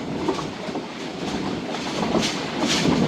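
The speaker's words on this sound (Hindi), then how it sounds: "अबेंडन रेलवे स्टेशन मौसनवाल के पास से गुजर रही है ट्रेन" Karachi Express passenger train rolling past an abandoned railway station between Multan and Lahore, a steady loud rumble with rhythmic clickety-clack of wheels on rail joints throughout, heard from on board.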